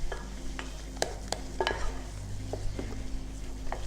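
A wooden spoon works thick churro dough in a pot on the stove, giving soft scraping and stirring sounds with a few sharp knocks against the pot.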